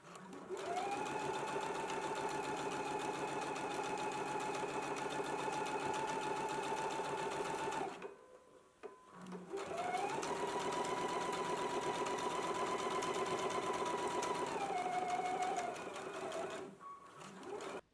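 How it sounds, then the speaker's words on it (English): A sewing machine stitches a 5/8-inch seam on a garment collar band, running in two long steady bursts with a short pause between, close and clear without talk. "we can go to the sewing machine and we're going to stitch in a 5/8 of an inch seam allowance"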